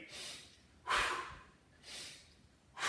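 Heavy, rhythmic breathing during a workout, close to the ear: loud hissing inhales and exhales alternate steadily, about four breaths, with no talking.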